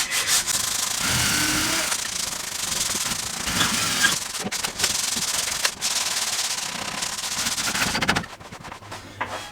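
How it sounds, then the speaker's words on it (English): Close, continuous rasping of sanding on wooden kitchen worktops, the scratchy strokes running steadily, broken by brief pauses and a final change in sound near the end. "carry on sanding"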